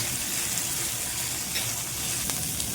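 Garlic greens with coriander and salt frying in oil for kharda thecha, a soft, continuous sizzle with faint stirring scrapes and no voices.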